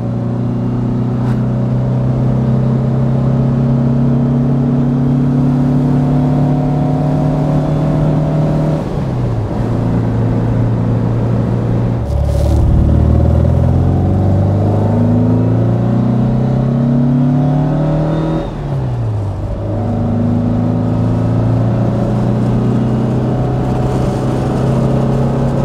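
A 1964 Porsche 356 SC Cabriolet climbs a steep mountain road, its engine droning loud and close with rising revs, dipping and climbing again through several gear changes.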